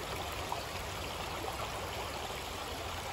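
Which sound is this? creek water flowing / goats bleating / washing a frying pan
creek water flowing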